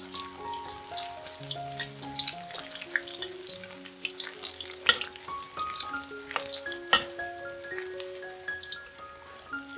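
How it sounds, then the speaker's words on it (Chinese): Shredded king oyster mushroom strips deep-fry over high heat in a wok of oil, crackling and sizzling steadily with scattered sharp pops beneath a gentle melodic music track. "将全部炸好的杏鲍菇丝回锅用大火炸至酥脆"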